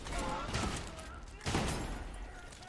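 A grenade blast and bursts of gunfire in the shooter video game Trepang², loud booming explosions with a rolling crackle, heard alone.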